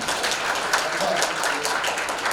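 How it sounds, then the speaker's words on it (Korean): Soft, steady applause from a Rotary training seminar audience in Goyang, a dense patter of many hands heard from a distance, even and low in level throughout. "여러분 기부 대신에 박수를 좀 쏟아드립니다"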